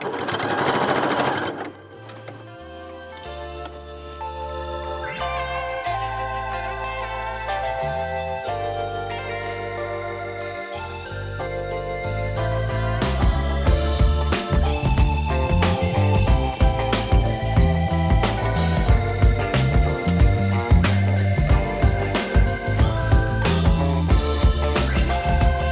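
A sewing machine stitches bias binding over a seam on a messenger bag, running steadily and loudly with short pauses and restarts, its motor whir and needle chatter continuous throughout.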